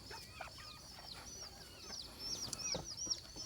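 Chickens cluck steadily close by, with high thin peeping calls mixed in and a continuous farmyard murmur underneath.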